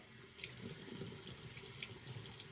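Tap water runs steadily into a sink while a shaving brush is filled, starting after a brief quiet moment and continuing as a soft, close, even splashing stream.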